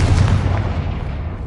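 A Confringo explosion spell bursts in the Hogwarts Legacy video game, one loud, dense boom that rolls on as a heavy rumbling blast for over a second.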